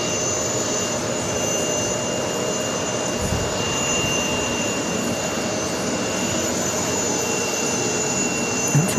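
Lufthansa Boeing 747-8 jet engines rumble steadily at an airport, a continuous broadband roar with a faint high whine, holding level throughout with no voices.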